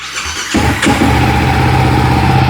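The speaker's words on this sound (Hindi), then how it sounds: "आपको आवाज़ सुनाते हैं किस तरीके से आपकी इसकी एग्जॉस्ट नोट है" TVS Apache 310RR 2025 motorcycle engine cranking briefly then catching, settling into a loud, close, steady idle with a throbbing exhaust note.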